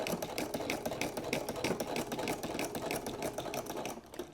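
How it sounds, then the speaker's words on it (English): A domestic sewing machine stitches a quilted triangle table runner, running forward and then reversing to backstitch, a close, steady rapid mechanical chatter with slight pauses, no talk. "So go ahead and stitch forward and reverse."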